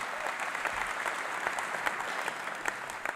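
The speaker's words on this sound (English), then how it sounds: "you can give a round of applause" A church audience gives a round of applause to first-time visitors during a service; dense, even clapping throughout.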